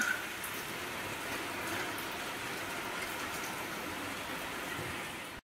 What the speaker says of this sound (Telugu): వర్షం అయితే భయంకరంగా పడుతుంది